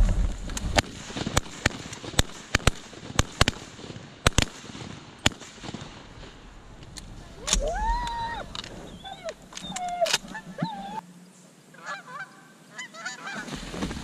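Shotgun blasts ring out during a rainy goose hunt, a rapid string of sharp, loud shots in the first seconds followed by honking geese calling nearby over steady rain hiss.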